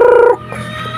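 A backyard Orpington hen gives a loud, sustained harmonic clucking call for about a third of a second, then it breaks off into quieter low rustling.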